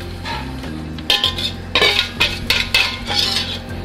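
Eggs are mixed into a sugar and pastry-cream powder base in a bowl for lemon crème pâtissière: a utensil scrapes and clinks rhythmically against the bowl over continuous background music.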